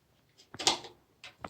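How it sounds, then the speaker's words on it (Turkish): A Philips GC4527/00 2600 W Azur Performer Plus steam iron's thermostat clicks off with a sharp metallic clunk, followed by a couple of softer clicks, all fairly close in an otherwise quiet room. "O tank sesi termostatın atma sesiydi."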